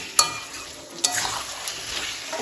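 Chicken pieces being stirred and fried in oil over medium-low heat for chicken do pyaza make a steady soft sizzle, with a couple of sharp spoon scrapes against the pan.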